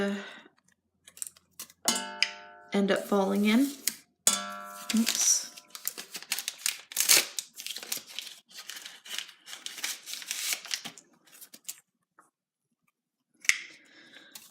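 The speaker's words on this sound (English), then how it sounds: "I'm just gonna cut the strings right off" Scissors snip strings off tea bags amid crinkling paper handling, with brief sharp cuts and rustles scattered over the clip, close and fairly quiet, while someone speaks briefly in between.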